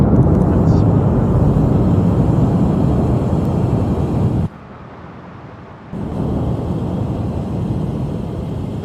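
Simulated DC-3 piston engines drone loud and steady during flight in a flight-simulator game on a Norwegian coastal route, dipping briefly for a moment before the roar returns.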